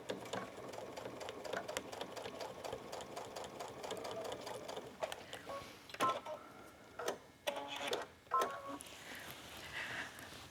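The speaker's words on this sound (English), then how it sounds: "I can take this to the machine, and with my straight stitch again, just edge stitch right along the fold of the binding" A sewing machine edge stitches fabric binding with a straight stitch, a faint, steady rapid whir that gives way to short stop-and-start bursts and clicks near the end.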